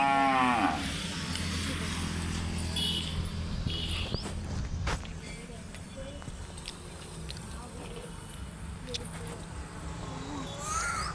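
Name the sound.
cows mooing at a village house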